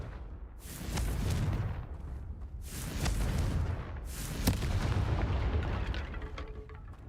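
Confringo fire-blast spells explode in Hogwarts Legacy, three loud booming blasts spaced about a second and a half apart, each with a rumbling tail and crackle.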